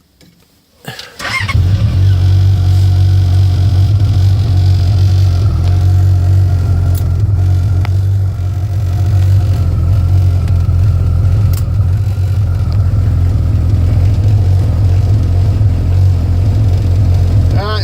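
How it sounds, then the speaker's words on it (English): A Yamaha RX-1 snowmobile engine starts after a quiet moment and runs loud and steady, powered only by its stator with no fuel pump, its low rumbling idle wavering slightly but persisting throughout. "It's just running off the stator with no fuel pump."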